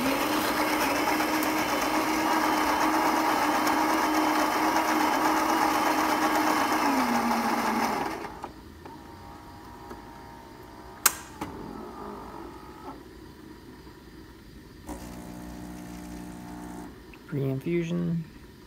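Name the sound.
Saeco Intuita espresso machine running after thermostat repair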